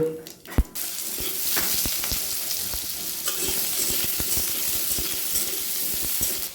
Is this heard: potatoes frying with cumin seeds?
yes